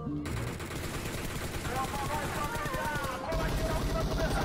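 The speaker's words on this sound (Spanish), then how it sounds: "Porque la M4 es bien rápido, los tiros llegan demasiado rápido." Rapid automatic M4 rifle fire from the mobile game PUBG Mobile rattles in fast continuous bursts under game sounds and music, with a voice talking over the action.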